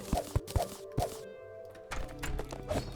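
Digging through ground blocks in Terraria's Calamity mod: a few sharp, fairly loud thunks in quick succession, a brief quiet gap, then another irregular run of soft knocks and crunches.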